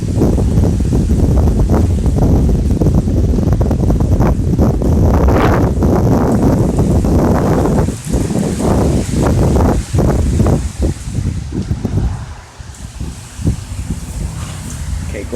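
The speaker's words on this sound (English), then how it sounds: "Very windy today." Strong wind gusting outdoors, buffeting the microphone in a loud, rough roar that eases and returns, with faint rustling in between.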